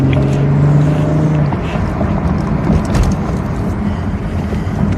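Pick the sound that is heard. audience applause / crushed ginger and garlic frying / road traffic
road traffic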